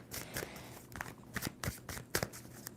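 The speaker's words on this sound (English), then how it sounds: "2 more shuffles for Scorpio" A deck of tarot cards is riffled and shuffled in quick, soft bursts, several rustling flutters in a row, close but quiet.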